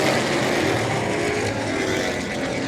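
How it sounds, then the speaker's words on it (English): Pro Late Model race cars roar around Orange Show Speedway, a loud continuous engine drone from several cars at speed, sustained throughout with no talk over it. "Once again, racing for the Pro Late Models at Orange Show Speedway."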